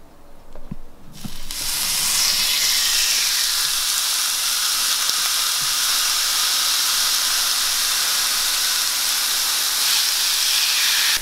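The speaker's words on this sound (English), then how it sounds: "now the steak is ready to grill." A steak hits a hot grill for a Bangkok-style Thai beef salad, bursting into a loud, continuous sizzle and hiss after a couple of quiet knocks, then sustained close-up frying with no talking.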